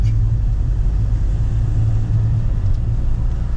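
Steady low rumble of road traffic near the Erskine Bridge, cars and engines passing continuously and fairly loud, with no talking.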